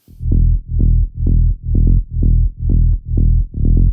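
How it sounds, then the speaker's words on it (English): A sidechained tech house groove pumps in four-on-the-floor time, each kick ducking a bass line so the level swells and drops in a regular beat, loud and alone. "the kickstart, just simple 4 on the floor side chain"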